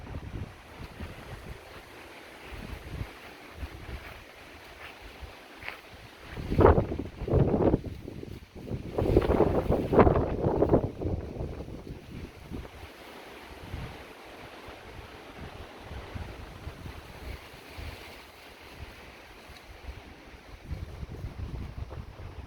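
Wind gusts during a thunderstorm buffet the microphone with deep, irregular rumbling thumps, heaviest in the middle stretch, over a faint background hiss.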